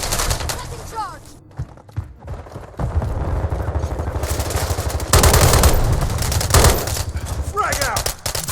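Gunfire in a Call of Duty Modern Warfare III multiplayer match: loud bursts of automatic fire and rapid shots come in dense clusters, with short lulls between them and voices heard in between.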